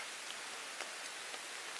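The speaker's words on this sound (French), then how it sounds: "j'entends les toutes premières gouttes qui commencent à tomber. La pluie commence à tomber" Sparse first raindrops patter faintly on a camping tarp, a few soft isolated taps over a quiet hiss of outdoor background noise.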